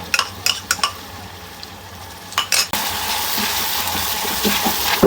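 Onion paste hitting hot oil with cinnamon and cardamom in a pan, a few spatula clinks and knocks at first, then a sudden loud, steady sizzle that fills the rest, close with no talking.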